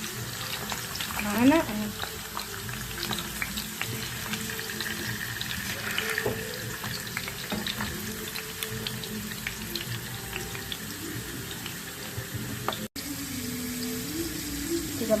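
Stuffed potatoes frying in oil in a home kitchen for a baked minced-meat potato tray, a steady soft sizzle running throughout with occasional bubbling pops, under a woman's quiet speech.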